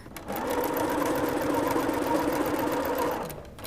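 A sewing machine runs steadily for about three seconds, stitching a quarter-inch seam on a flower quilt block with the fabric pieces placed right sides together, then stops.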